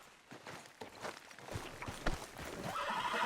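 Horse riding in Red Dead Redemption 2: rhythmic hoof clip-clops at a steady gait, with a faint whinny and rising ambient noise toward the end.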